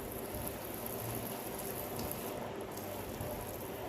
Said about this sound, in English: we are watering it thoroughly,